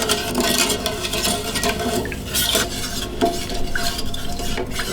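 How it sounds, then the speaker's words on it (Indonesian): Instant coconut milk from a sachet being stirred in a metal pot, a steady scraping and swishing of the spoon against the pan that carries on throughout at close range, with no talking. "Kita tambahkan santan instan 1 saset. Kita aduk dahulu."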